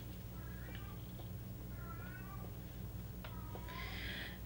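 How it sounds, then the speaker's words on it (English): A house cat meows repeatedly in the background, several drawn-out, rising cries over a steady low hum, faint and somewhat distant. "do you hear my kitty in the background? I don't know if you can hear that. He is meowing like crazy."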